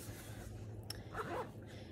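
A zipper being run along the side of a bright floral-patterned Bible case, a quiet short rasping pull that stands out briefly against soft room noise.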